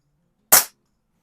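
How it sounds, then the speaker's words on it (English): A single sharp crack from an Air Venturi Comp10 PCP target air pistol firing a pellet, short and close, standing alone against near silence. "I can definitely tell that this gun shoots the pellets a lot slower, or is not as powerful as the Hammerli"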